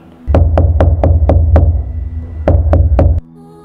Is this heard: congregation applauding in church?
no